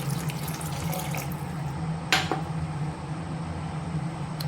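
Water is poured from a glass into rice in a pot while egg biryani is being made, giving a steady running, splashing flow throughout with a brief sharper splash midway.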